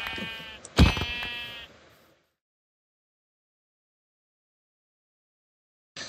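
Sheep bleating in Minecraft, two or three close bleats in quick succession at the start, followed by long silence and a brief sound at the very end.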